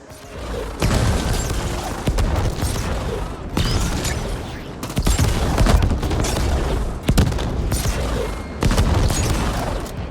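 Weapon gunfire in the video game The Ascent, a steady stream of heavy, booming shots with mechanical clatter, sustained and loud throughout with brief gaps between bursts.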